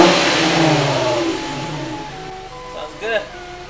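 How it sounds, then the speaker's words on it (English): An Infiniti FX35 engine starts and revs loudly, its pitch sliding down as it settles toward a steady run, with a short blip of throttle near the end. "Let me go ahead and give it a start and see if it starts right up."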